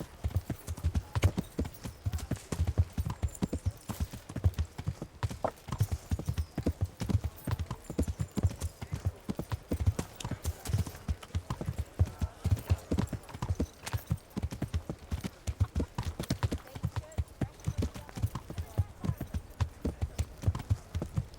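Steady, rapid clip-clop of horse hooves in the video game Kingdom Come: Deliverance, running continuously at an even galloping rhythm, close and fairly loud, with an occasional faint whinny.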